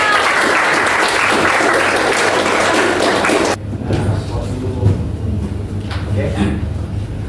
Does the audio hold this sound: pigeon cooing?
no